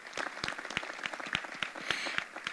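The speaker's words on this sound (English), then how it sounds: "Let's give all of our tonight's honorees another hand of applause." A small group at an awards banquet claps steadily nearby, individual hand claps distinct and rapid, with no voices over them.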